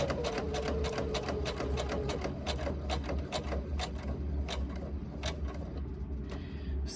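A sewing machine stitches along a laptop bag, a close rapid rattle of needle strokes over a low motor hum that runs steadily, then slows into a few separate clicks as it stops near the end, with no voices.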